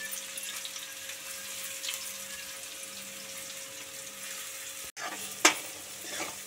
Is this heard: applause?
no